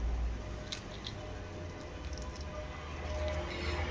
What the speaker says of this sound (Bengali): এই যে মটরশুঁটি আমি ছিলে নিচ্ছি